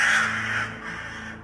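A crow caws loudly and close by, one harsh drawn-out call that fades over the next second, with no voices.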